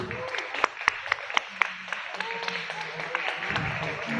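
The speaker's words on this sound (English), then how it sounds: "A round of applause for Sam YG." Audience at a TV food show media launch clapping for a radio and TV personality, a few sharp individual claps over a sparse, moderate round of applause with a faint voice and music underneath.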